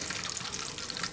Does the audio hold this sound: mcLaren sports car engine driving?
no